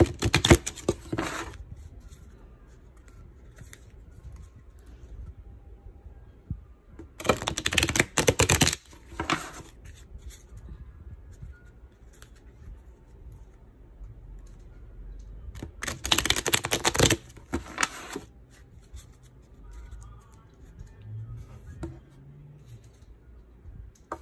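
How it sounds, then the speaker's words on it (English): Tarot cards shuffled in bursts of riffling and patter, close and moderately loud, with quiet pauses between the shuffles. "let's shuffle the cards so we can get all the energy out of there from the previous readings"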